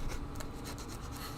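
Hand sanding across the surface of a She-Hulk bust, a steady close-up rasping scrape that runs without pause for a moment, no voices over it.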